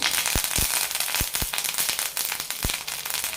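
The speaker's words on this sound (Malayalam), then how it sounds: "കടുക് പൊട്ടിക്കഴിയുമ്പോൾ കുറച്ച് കറിവേപ്പില കൂടി ഇടാം" Mustard seeds and curry leaves crackling in hot oil, with sharp irregular pops over a steady sizzling hiss, close and fairly loud, with no speech.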